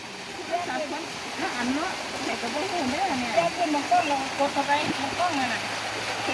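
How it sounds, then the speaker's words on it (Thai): Sarika waterfall in Nakhon Nayok rushes and splashes in a constant broad hiss, with a voice talking over the water. "สาวชัยภูมิมาเล่นน้ำตกสาลิกา จังหวัดนครนายกนะคะ"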